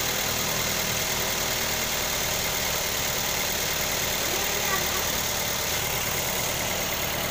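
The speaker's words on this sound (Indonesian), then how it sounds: "Karena memang dasarnya mesinnya udah halus ya, kedengarannya enak, halus, merdu" A 2012 Toyota Avanza Veloz engine idles smoothly with a steady, even hum, close and continuous, with no speech over it.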